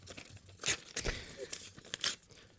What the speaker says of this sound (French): on regarde tout de suite les résultats avec Maître Lascar qui nous apporte l'enveloppe